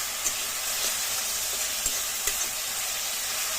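Ginger garlic paste and green chilli fry in a hot pan with a steady close sizzle, broken by a few soft stirring taps.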